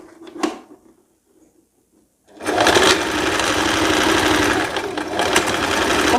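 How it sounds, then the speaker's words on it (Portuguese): A sewing machine stitches the seam joining the waist and bodice of a dress, starting after a quiet pause and then running steadily and loudly for about four seconds. "Vai passar na máquina, costurando a parte entre a cintura e o corpinho"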